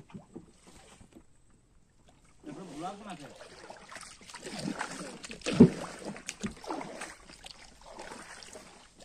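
A fishing boat moving slowly out onto a Sundarbans river, with soft water sloshing and wind buffeting, a sharp knock midway, and people talking nearby throughout.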